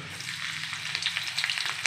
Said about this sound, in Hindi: लहसुन हल्का सा रेड होने के बाद हम उसके अंदर जो काट के हमने हरी मिर्ची रखा था वो डालेंगे।